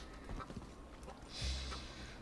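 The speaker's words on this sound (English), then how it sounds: "Okay, there's a horse." Horse hooves clip-clop briefly at a faint distance in a Red Dead roleplay video game, a few soft steps over a low ambient hum.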